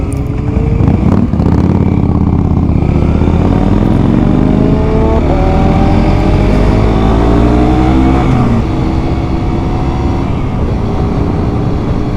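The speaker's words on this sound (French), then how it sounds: "Ça, je te l'ai mis pour les bruits des motos." Motorcycle engines drone and rev nearby, pitch rising and falling as they pass, a continuous loud mechanical roar with no talking.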